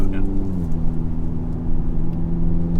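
A car engine hums steadily while driving, its steady mid-low drone shifting slightly in pitch. A voice talks over it for most of the clip.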